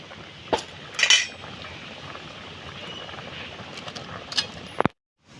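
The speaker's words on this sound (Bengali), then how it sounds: "এই দেখুন ডাটা দিয়ে আমি নাড়াচাড়া দিয়ে দিচ্ছি।" Vegetable stalks being stirred in a cooking pot with a metal utensil, giving a few sharp clinks and scrapes against a steady low sizzle, then a final clatter before the sound cuts off.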